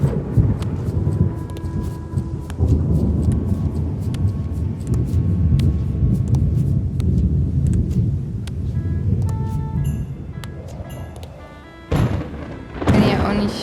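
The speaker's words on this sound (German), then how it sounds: "Schöner Donner" Thunder in the Return to Monkey Island video game: a long, loud, rolling rumble that swells and fades with scattered crackles, followed by sharper bursts near the end.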